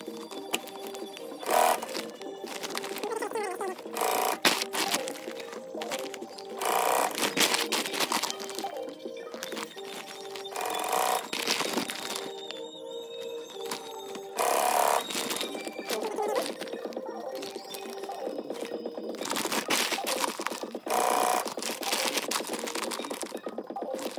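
A sewing machine stitches webbing onto a waterproof 7-litre roll-down dry bag, running in a close, fast mechanical chatter with brief pauses and fabric handling throughout.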